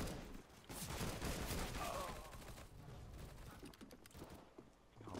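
Rapid bursts of G3SG1 semi-automatic sniper rifle fire in Counter-Strike: Global Offensive, a dense run of loud cracking shots merging with other gunfire through most of the stretch before thinning out.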